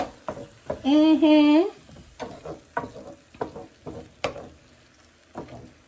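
Tomatoes stirred into sizzling vegetables in a pan for curry chickpeas, with scraping and clattering stirs over a frying hiss and a short burst of voice partway through.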